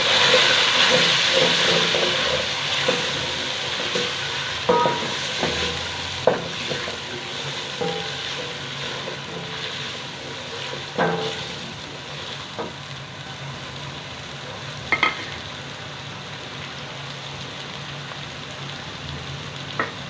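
Tomatoes frying with onions in a pan for a kaleji dish, giving a steady loud sizzle and hiss with occasional clinks and stirring knocks from a utensil, close and with no talking.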